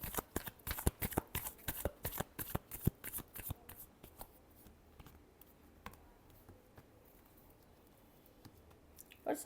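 Tarot cards being shuffled by hand: a close, crisp series of quick riffles and slaps for about four seconds, then a quieter stretch with a few soft card handling sounds.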